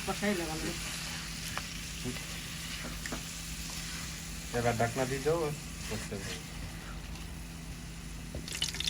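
Cumin seeds sizzle in hot oil for dal tempering, a continuous crackling fry close by, with a voice talking over it.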